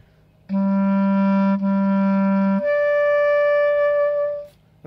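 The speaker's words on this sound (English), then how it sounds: "But yours, clarinet, sounds like this." A clarinet plays a low sustained note, then leaps to a higher held note, then higher again, clear and alone with no talking.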